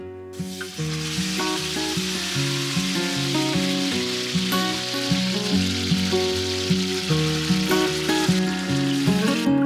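Spice paste with dried red chilli frying in a little oil, a continuous close sizzle under a layer of steady tonal humming, with a few light knocks from stirring.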